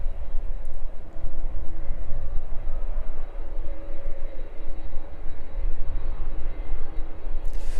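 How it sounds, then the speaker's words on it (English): A Jet2 jet airliner taxiing out onto the taxiway at East Midlands Airport gives off a continuous, loud engine roar with a steady whine, close by and unbroken, with no talk over it. "Jet 2 making its way out then onto the taxiway"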